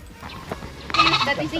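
A sick goat bleating at a roadside rest stop, one wavering cry rising near the end over faint background noise.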